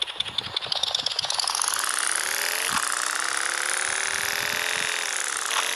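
Motorcycle engine revving up from a low putter into a loud, sustained whine, pitch climbing steadily then holding high and close, with a brief dip mid-way and no talking.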